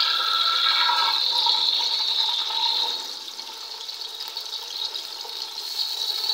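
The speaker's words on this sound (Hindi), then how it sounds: "और प्याज को फ्राई करूंगी।" Sliced onions fry in a cup of hot oil in a pot, giving a loud, dense, steady sizzle that eases slightly partway through, close up, with no talk.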